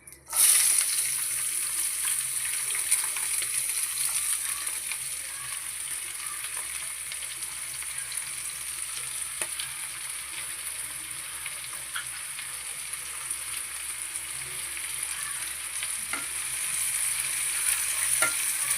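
Chopped onions fry in hot white oil, a steady, fine sizzle with soft crackling that starts abruptly and holds evenly throughout, with occasional light stirring clicks and no talking.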